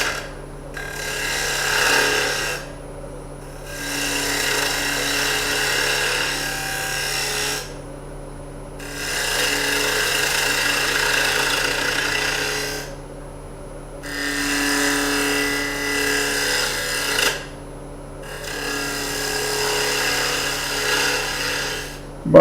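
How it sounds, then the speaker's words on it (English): A half-inch bowl gouge cuts a wooden bowl on a spinning lathe, a loud steady scraping hiss in repeated passes of a few seconds each, broken by short pauses, over a constant motor hum. "this is a Doug Thompson half-inch bowl gouge"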